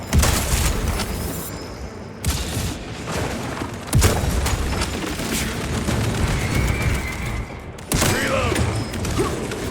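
A bolter in Space Marine 2 fires in a heavy, sustained stream of loud, close bursts, thick with booming impacts and clanking mechanical noise.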